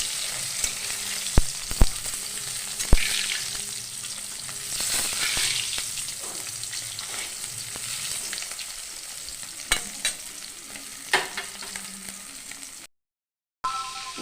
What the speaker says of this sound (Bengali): মাছ আবার পরবর্তীটা ভাজতে দিয়েছি সরষার তেলে মাছগুলোকে ভেজে নিতে হবে।